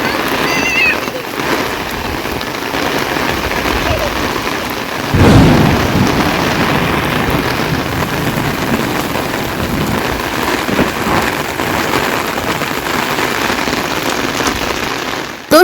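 Heavy rain pours down in a steady, dense roar, with a deep rumble of thunder swelling a few seconds in, all loud and close, without voices.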